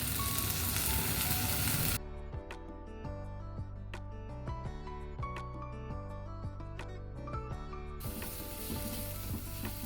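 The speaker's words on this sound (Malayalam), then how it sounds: "ചെറിയുള്ളിയൊക്കെ ഇപ്പം വഴന്ന് വരുവാണേ" Shallots and crushed garlic sizzle steadily as they sauté in a pan, a continuous close frying hiss. It starts loud, eases to a softer sizzle with light clinks and stirring taps, then swells again near the end.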